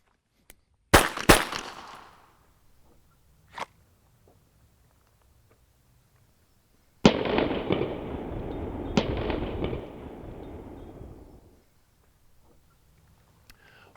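Pistol shots on an outdoor range during a close-retention drill: a pair of sharp, loud cracks near the start, then another close pair of reports with long echoing tails, with quiet stretches between.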